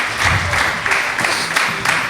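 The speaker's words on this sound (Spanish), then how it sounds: "dale un aplauso al Señor si se lo quiere dar" Church congregation applauding during a Spanish-language sermon: a dense, steady wash of clapping for about two seconds, fairly loud and close, with no clear speech over it.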